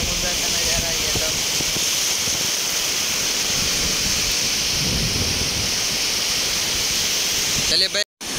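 Sea waves wash steadily onto the shore at Porbandar, Gujarat, a loud continuous roar of surf under a voice.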